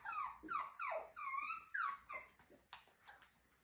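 Schnauzer puppies growl and whimper in a rapid run of high, wavering yips and whines, close and fairly quiet, trailing off into softer whimpers.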